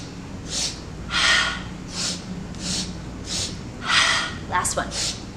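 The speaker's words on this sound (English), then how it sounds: "Another breath would be this 3-part breath." A person demonstrates a three-part breath up close, a run of quick, forceful sniffing inhales followed by an exhale, repeated in a steady rhythm, with a brief bit of voice near the end.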